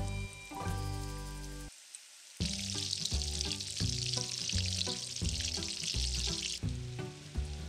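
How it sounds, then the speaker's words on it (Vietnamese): Mantis shrimp spring rolls sizzling steadily in hot oil for a home Tet meal in Saigon, a brief drop out before loud crackling frying resumes with stirring clatter, close and continuous. "Mình cũng chiên thêm chả giò ăn kèm luôn"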